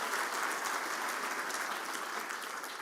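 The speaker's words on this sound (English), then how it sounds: "That deserves a big round of applause." A crowd applauds steadily, a dense wash of clapping that holds at full strength without pause.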